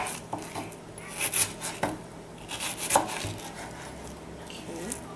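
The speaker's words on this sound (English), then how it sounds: "I just simply cut up the onion" A knife cuts up an onion on a board in a home kitchen, with several irregular chops and scraping strokes spread across the few seconds, close and fairly crisp, with no voices.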